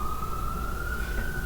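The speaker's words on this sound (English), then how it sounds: "Did that siren stop or it's been going this whole time?" An emergency vehicle siren wails as a steady, slowly rising tone over low rumbling background, heard from indoors in a home kitchen.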